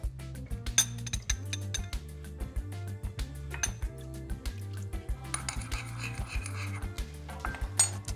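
Shaoxing wine, soy sauce and sugar stirred together in a bowl, heard as rapid, closely spaced clinks of a utensil against the dish in a steady rhythm, quiet and close with no talk.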